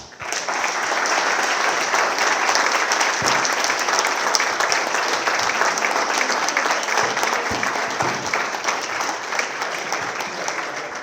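A banquet audience at the 2025 St. Clair Shores Athletic Hall of Fame induction gives a Hall of Fame inductee dense, sustained applause from many hands for about eleven seconds, loud and even, fading slightly at the end.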